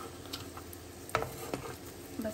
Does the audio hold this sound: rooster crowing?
no